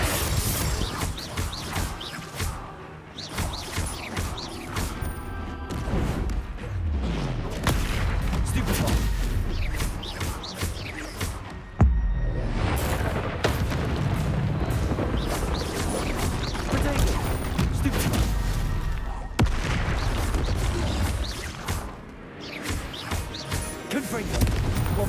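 Explosive Confringo and Bombarda spells cast in Hogwarts Legacy: booming blasts and crashes hit repeatedly over roughly twenty-five seconds, loud and close amid game noise, with a voice speaking at times.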